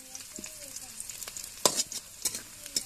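Chopped onion and garlic sizzle in hot oil in a pan while lentils are being prepared, with a soft steady fry broken by sharp stirring scrapes and clicks, up close and quiet.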